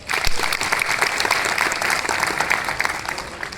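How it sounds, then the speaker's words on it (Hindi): An audience claps for an actress at a stage show, a brisk continuous burst of applause throughout with no one speaking. "आपकी तालियां और सवेरा।"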